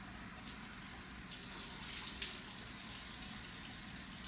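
A water tap runs steadily into a basin, a faint, even hiss of flowing water with no voices.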